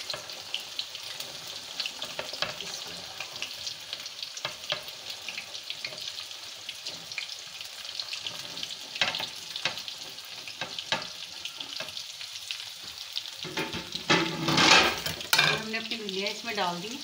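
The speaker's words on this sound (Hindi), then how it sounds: "अब इसके अंदर हमने ये भिंडियाँ फ्राई करनी है" Okra (bhindi) fries in hot oil, giving a soft, continuous sizzle broken by scraping stirs, with a louder, bubbling burst near the end; no voice is heard.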